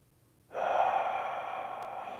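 A single long breath, close and fairly quiet, drawn in sharply and then sustained during a held desk exercise with elbows driven back and hands lifted off the head.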